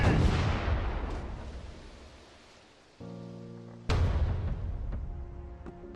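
Ship cannons in a VR pirate video game fire as heavy booming blasts with a long noisy rumble that decays, then a second loud burst lands near the four-second mark, with a steady hum in between.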